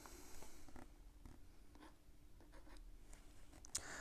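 Faint scratchy strokes of someone writing a line on a board in a classroom, a run of short rhythmic marks over a quiet room.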